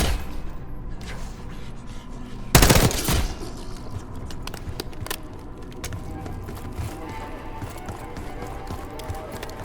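A burst of loud, sharp shots around the third second in Call of Duty: Black Ops 6, with scattered faint pops and footsteps and a murmur of voices in a busy game soundscape.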